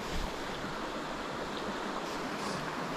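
Steady rushing water from a North Georgia creek fills the scene, a broad continuous wash with some wind noise, fairly quiet and without any voices.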